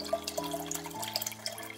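Water poured into an Instant Pot Ace Plus blender jug over a cup of soaked almonds for almond milk, a steady close trickle and splash with small drips over a low hum.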